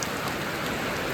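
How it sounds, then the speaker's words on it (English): Light rain falls outdoors as a soft, steady, faint hiss over a brief moment, with no other sound standing out. "I think it's raining just a little bit."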